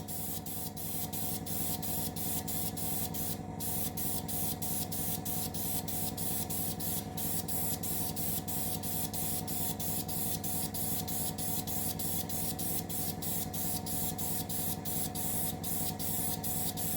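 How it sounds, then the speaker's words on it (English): A paint sprayer lays a light dust coat onto a scale model of the Russian Navy Project 955 Dolgoruky submarine, producing a quiet, unbroken hiss with faint regular ticking throughout and no talking. "Now I can turn this up and spray a lot heavier,"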